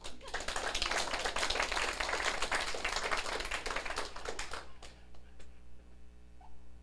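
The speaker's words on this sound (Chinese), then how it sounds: "他那边拍手呀。" An audience claps at a political lecture, a dense burst of many hands that runs steadily for several seconds, then breaks off into scattered claps and room noise.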